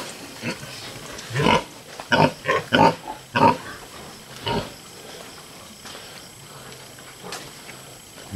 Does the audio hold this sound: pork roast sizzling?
no